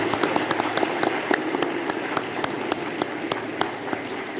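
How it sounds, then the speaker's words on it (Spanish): An audience of work teams at the Casa Rosada breaks into steady applause, a thick, even wash of clapping with crisp individual claps popping out near the front, no voices over it. "Bueno, un aplauso."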